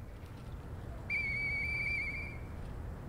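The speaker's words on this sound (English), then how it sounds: "I know that whistle" A whistle call in the video game Lies of P, a clear sustained tone with bright overtones that holds steady for about a second and a half over a low background hum.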